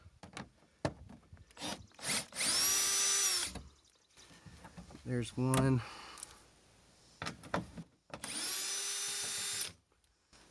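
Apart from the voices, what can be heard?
drill removing 10mm bolts on 4Runner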